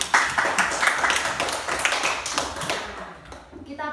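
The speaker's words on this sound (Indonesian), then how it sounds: "kita tepuk tangan untuk Asri" A small group, likely a primary school class, claps for a classmate, with quick scattered handclaps at close range that thin out and fade over a few seconds.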